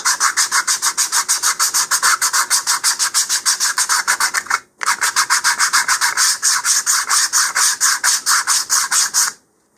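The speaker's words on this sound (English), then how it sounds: "So it looks like I need more sanding over here." Steady, rhythmic rasping of hand sanding the edges of a wooden model rocket part, fast back-and-forth strokes close up, with one brief pause midway and no talking.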